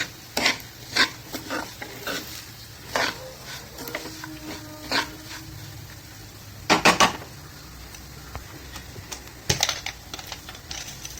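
Semolina (rava) roasting in ghee in a pan for Konkani upma, stirred with a spoon: repeated scraping and clicking strokes over a soft, steady sizzle, close up and with no talking.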